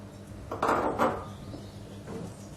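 A utensil clinks and scrapes against a bowl while flour is stirred into chocolate fondant batter; a few distinct knocks, quiet and close, with no talking.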